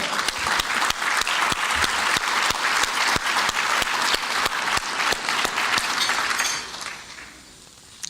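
Audience at a foundation event applauds in a steady, loud burst of clapping that fades out over the last second or two.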